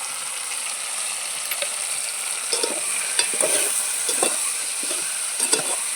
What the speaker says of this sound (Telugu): మనం బాగా కలిపెట్టుకున్నాము